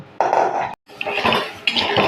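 A spoon stirs fried vegetables into a cornflour-thickened pasta sauce in a pan, giving close scraping and clinking strokes in short bursts, split by a brief pause.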